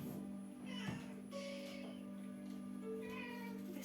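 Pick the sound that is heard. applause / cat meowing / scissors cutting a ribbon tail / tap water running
cat meowing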